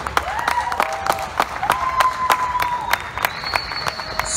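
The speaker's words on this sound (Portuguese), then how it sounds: "Aqui uma grande salva de palmas para o Mir." A festival crowd at Ribeira Brava applauds the artist Miro with a brief round of scattered clapping, cheers and whistles that stay moderately close and lively throughout.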